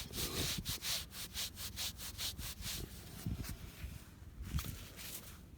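A metal-detecting find is rubbed hard against a cleaning ball in quick back-and-forth strokes, a close, loud rasping scrub that slows and turns more uneven toward the end.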